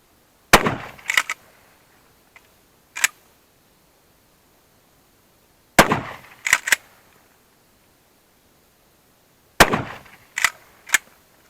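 Hatsan Escort pump-action shotgun fired outdoors in three loud, sharp blasts spaced seconds apart, each followed within a second by the quick double clack of the pump being racked, with short gaps of quiet between.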